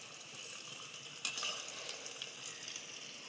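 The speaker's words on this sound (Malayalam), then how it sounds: "അത് നമുക്ക് വറുത്തെടുക്കാം" Food shallow-frying in a small amount of oil, a steady soft sizzle with faint crackles and a couple of brief pops, quiet and close, no voices.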